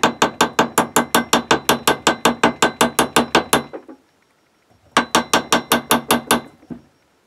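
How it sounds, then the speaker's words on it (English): Sharp, evenly spaced hammer taps drive parts into a Cannondale Lefty 110 suspension fork, a fast run of about twenty metallic knocks, a short pause, then a second burst, close and loud with no talk. "Is to hammer them in slightly."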